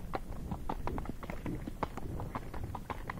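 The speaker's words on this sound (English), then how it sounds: "it's kind of rocky, but we're gonna try and canter up it." Missouri Fox Trotter horse's hooves cantering on rocky ground, a quick irregular clatter of clip-clop strikes close by throughout, with stones knocking underfoot.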